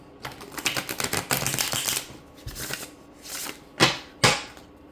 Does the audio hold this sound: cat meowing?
no